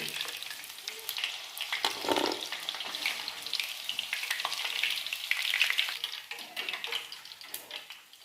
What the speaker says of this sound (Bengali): তো একই প্রক্রিয়ায় আমি সমস্ত পকোড়াগুলো ভেজে নিচ্ছি